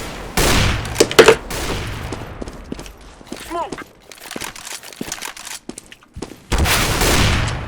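Gunfire in Counter-Strike: Global Offensive comes in two loud, dense bursts at the start and end, with scattered clicks, footsteps and brief voice sounds in the quieter stretch between.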